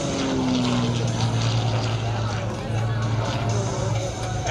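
Gamebird GB1 aerobatic airplane in a torque roll at the Cherry Point Air Show, a loud steady propeller engine drone with a shifting tone, with commentary voice and crowd murmur underneath.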